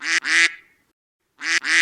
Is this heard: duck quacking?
yes